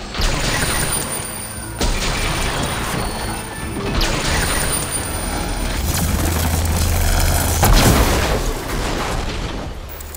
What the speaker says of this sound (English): It sounds like fighting.